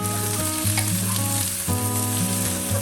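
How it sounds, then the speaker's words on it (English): Eggplant and potato stir-fried in a pot, a dense continuous sizzle broken by regular scraping strokes of a utensil, loud and close with no voices. "Add the eggplants and potato in. Stir fry for 3 minutes."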